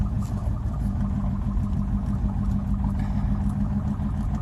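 A Mercedes OM606 diesel engine, suspected of a stuck valve, runs just after starting, with a steady, low, close rumbling idle that holds evenly throughout.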